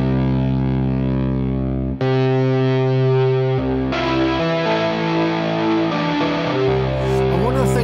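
A distorted synth guitar patch from the Slate Digital ANA 2 synthesizer plays sustained, gritty chords that change every couple of seconds, thick with harmonics and a bright, buzzing edge.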